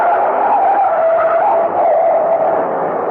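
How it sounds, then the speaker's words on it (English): Truck tires skid and screech loudly and continuously for about three seconds, a sustained howling squeal staged as a radio drama sound effect with no talking over it. "Farrar, look out! That truck!"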